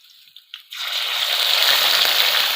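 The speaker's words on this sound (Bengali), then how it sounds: "এই মশলাগুলো আমি এখন একসাথে দিয়ে দেব।" Ground spice paste of cumin, ginger, green chilli and onion dropped into a hot pan with fried onions, bursting into a loud, steady sizzle after a few soft knocks, close up, with no talking.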